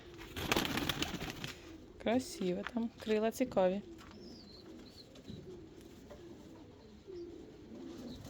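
Pigeons coo in a loft, a series of soft throaty calls under and between a person's speech, with a clear run of rhythmic coos in the middle and quieter ones trailing off.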